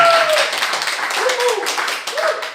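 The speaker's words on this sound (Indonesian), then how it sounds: "Berikan tepuk tangan buat teman-teman kita." An audience at a youth Bible quiz grand final claps in a short, steady burst, with a voice speaking over the clapping.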